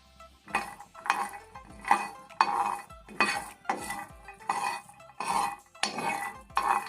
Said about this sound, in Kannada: ಗ್ರೌಂಡ್ನಟ್ ಮೈಲ್ಡ್ ರೋಸ್ಟ್ ಮಾಡ್ಕೊಳ್ಳಿ, ಹಸಿ ವಾಸನೆ ಹೋಗೋವರೆಗೂ ಆದರೆ ಸಾಕಾಗುತ್ತೆ